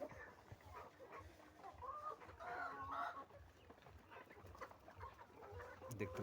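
Chickens kept for breeding eggs and fed grain, paddy, wheat and grass, clucking and calling repeatedly at close range, fairly quiet, with faint background noise.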